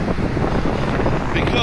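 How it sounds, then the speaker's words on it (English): Strong wind in Manchester buffets the microphone in a steady, loud rumble throughout, with no pauses or gusts dropping away. "on this very, very, very windy day"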